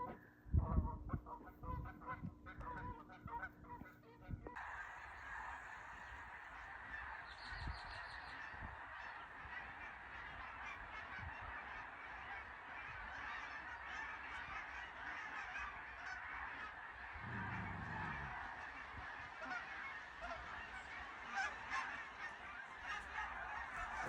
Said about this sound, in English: There's our geese. They're back.